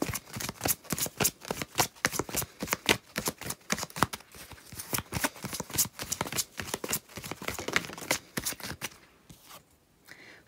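Tarot reading cards are shuffled rapidly and repeatedly in quick rhythmic riffles and slaps, close and crisp, continuing steadily before tapering off at the end.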